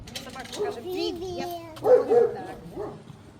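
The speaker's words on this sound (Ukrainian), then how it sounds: "Тож собака гавкає, вона так розмовляє." A dog barking at an ostrich farm in Verkhnia Syrovatka, Sumy region, Ukraine, a few short close barks mixed in with people talking nearby.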